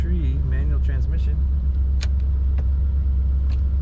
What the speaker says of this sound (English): Very good running car, smooth idle.